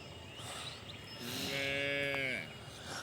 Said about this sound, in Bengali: এই যে এই গরুটা করছে।